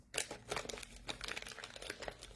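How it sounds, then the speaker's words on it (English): A plastic baggie being pulled open at a craft table, close crinkling and rustling in rapid irregular bursts throughout, quiet overall with no talk. "If I can get the baggie open here."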